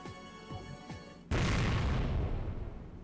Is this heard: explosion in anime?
yes